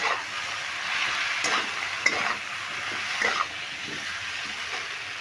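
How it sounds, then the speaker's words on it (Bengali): Spices with green chili paste stir-fry in a pan, giving a moderate hissing sizzle with a few soft scraping strokes as the mixture is turned. "এবার সমস্ত মশলাগুলো দিয়ে একটু মেরে নেব"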